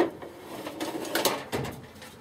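A metal drawer on a home mechanic's tool box slides open and shut with a rolling, rattling scrape and a soft clunk, close and fairly loud with no talking.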